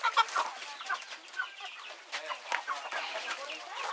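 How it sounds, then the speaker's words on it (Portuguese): Chickens on a small farm cluck and squawk in a busy, overlapping chorus, fairly close, with a person talking faintly beneath the birds. "Aqui ele já criou os frangos aqui, ó."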